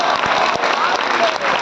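An audience at a poetry mushaira in Kolkata breaks into dense, steady applause, close and loud throughout with no pause.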